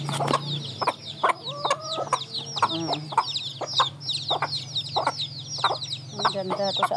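Native chickens cluck steadily while pecking at a whole overripe watermelon on a rural Philippine farm, with repeated close clucks and bird calls over a low background hum.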